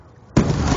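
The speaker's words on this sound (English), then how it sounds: "I've got a nade dropped in it" A grenade blast in a first-person shooter video game during a competitive Hardpoint scrim, erupting suddenly after a quiet lead-in as one loud, close boom with a rumbling tail.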